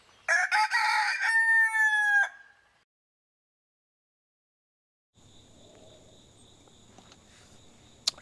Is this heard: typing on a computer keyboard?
no